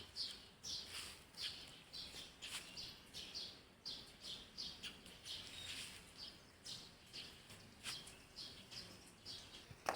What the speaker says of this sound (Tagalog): maririnig mo mga ibon